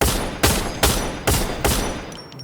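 Four loud, evenly spaced gunshots from a gun in the video game Free Fire, each a sharp close blast with a short decaying tail, then a brief quiet.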